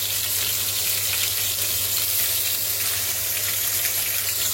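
Browned rabbit pieces fry in a deep pan, a loud, steady close-up sizzle and crackle that continues without a break.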